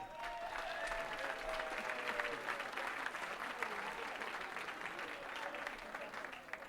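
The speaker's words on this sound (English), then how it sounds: "All right, James, as the audience applauds, join me as quickly as you can" A crowd at a charity dinner applauds with continuous, fairly distant clapping, faint overall, while tonal chatter and a voice drift through underneath.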